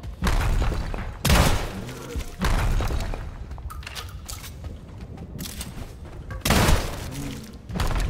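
Gunshots in a roguelike video game boss fight, several loud sharp blasts spaced irregularly among clattering impacts and thuds, close and dominant.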